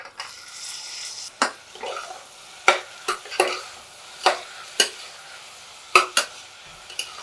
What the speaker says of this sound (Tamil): இது நல்லா குழைவாக வதங்கணும்